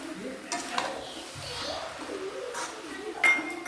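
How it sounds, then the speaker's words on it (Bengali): Ingredients with crushed ginger are stirred in a pan while making patishapta pitha: a few sharp scrapes and clinks of a utensil against metal, sparse and moderately close, with a voice talking quietly underneath. "এবার আমি হালকা দিয়ে একটু নেড়ে নিয়ে ভালো করে মিক্স করে নিচ্ছি"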